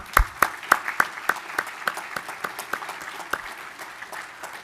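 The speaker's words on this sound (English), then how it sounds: "Let's give them a big round of applause as well." A sparse round of applause at a spring awards ceremony, with individual claps clearly separated in an uneven rhythm, fairly close and fading slightly over a few seconds.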